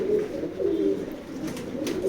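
Racing pigeons coo in a steady, rolling series of soft throaty calls, close and continuous, with no other sound over them.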